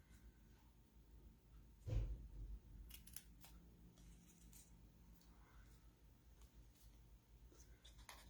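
Scissors snip paper in a few soft, quiet cuts, with one sharper cut near the start over a faint room background; no one speaks.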